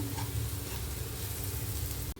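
Onion and curry leaves fry in a pan for semolina upma, giving a steady, close sizzle with no talk, ending in a brief clunk.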